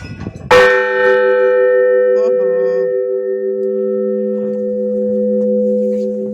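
A single church bell strikes loudly for Easter, its deep tone ringing on and decaying slowly, with faint brief voice-like sounds partway through.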